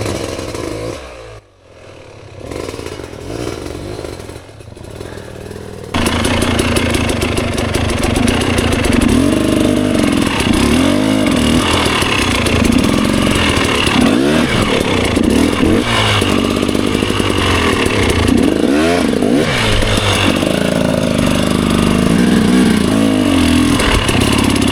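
A trials dirt bike engine revs loud and close as it climbs over rocks, with throttle blips rising and falling, clattering and scraping against stone, after a few seconds of quieter, distant running.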